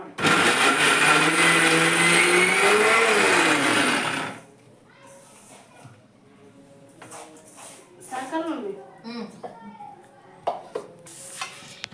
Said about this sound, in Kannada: ಕರೆ ಹೇಳಿ ಮಿಕ್ಸಿ ಹಾಕ್ತಿದ್ದೀನಿ